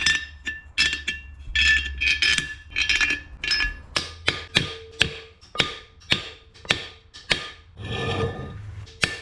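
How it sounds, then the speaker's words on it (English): Lug studs being hammered into a brake drum hub on a barn-find C30, heard as a run of close, sharp metallic strikes in a steady rhythm with brief scraping sounds between them. "We're gonna have to hammer these in."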